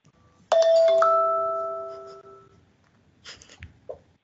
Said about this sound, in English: At the end of 4 minutes, a chime will sound.